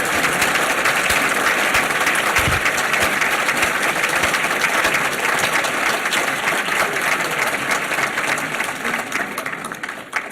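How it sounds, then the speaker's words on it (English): A university audience at a state-of-the-university address breaks into sustained, dense applause, steady and loud throughout before easing slightly near the end. "I'd like you to turn to your neighbor and applaud your neighbor"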